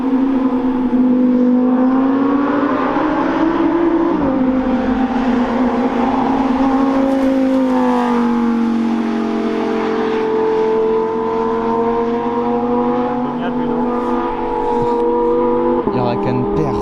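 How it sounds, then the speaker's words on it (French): V10 supercar accelerating on a mountain road, a loud sustained engine howl whose pitch climbs and dips as it revs and passes close, with voices talking over it. "Ah, le V10 là qui arrive."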